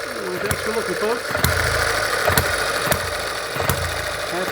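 Firing at intervals, a small M91 Microcosm hit-and-miss model gas engine with nickel-plated plumbing and exhaust muffler gives close, crisp single beats over a continuous running hum, with several evenly spaced pops and no voices.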